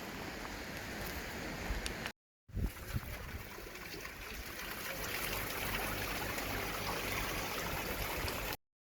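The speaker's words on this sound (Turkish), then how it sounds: "burada tamamen doğal kaynak suyumuz var" Natural spring water flows and trickles steadily at a rural village source where locals fill drinking water, a close, continuous rushing stream with a brief break partway through.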